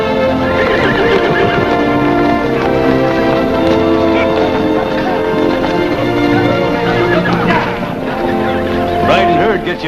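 Several horses neigh loudly and hooves clop in a 1951 Montana western setting, with rhythmic hoofbeats under layered whinnies, close and busy throughout, blended with other ambient noise.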